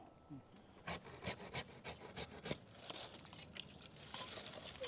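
Pruning shears snip and rub through a branch on a large landscaping tree being shaped in bonsai style, with a quick run of close rasping cuts and rustling leaves building toward the end.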